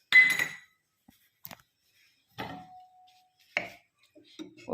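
A spoon stirs paneer cubes into a vegetable gravy in a pan, giving a few separate metallic clinks and scrapes spaced out across near silence, with a short burst of speech.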